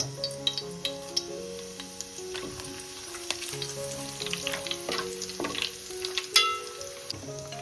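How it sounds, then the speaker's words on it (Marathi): Whole spices and curry leaves fry in plenty of hot oil, giving a close, crackling sizzle with sharp pops and occasional stirring, while soft music plays faintly in the background. "आपला तेल गरम झालेलं आहे, आता आपण खडे मसाले टाकून घेऊ."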